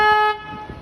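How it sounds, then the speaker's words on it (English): A single loud, steady tour boat horn blast sounds close by on the San Antonio River Walk, then stops abruptly, leaving a low engine rumble underneath. "I'm going to honk my horn."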